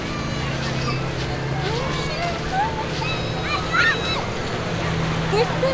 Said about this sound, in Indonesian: Pasir pantai guys.